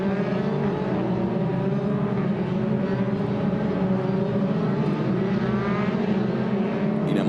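FIA Formula 3 single-seaters race at Hockenheim, their engines making a loud, continuous high-revving drone. Layered harmonic whine shifts gently in pitch as the cars run through the circuit.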